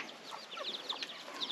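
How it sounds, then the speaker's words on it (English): Chickens and baby chicks cluck and cheep together in Muang Ngoi in northern Laos, a busy, continuous chatter of small, close calls. "Chicken paradise here."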